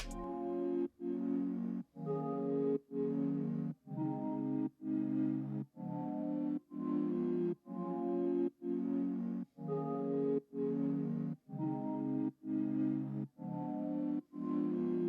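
A warm, sustained synth pad from the Analog Lab Vision XE kit plays a slow chord progression, each chord swelling and briefly cutting off in a regular pulse so it seems to breathe, with no one talking.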